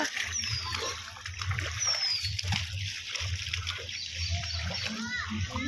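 Wading steps push through rain floodwater in a town street, giving a rhythmic series of low sloshing splashes that repeat steadily, with voices talking in the background.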